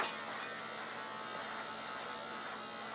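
A cheap battery-less electric shaver buzzes steadily and faintly, a continuous thin whir without pause.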